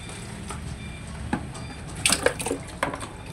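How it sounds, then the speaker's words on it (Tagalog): A little water trickles and splashes into a dog's food bowl, a few faint short pours and drips over low background noise, with no talking. "Lalagyan natin ng konting tubig."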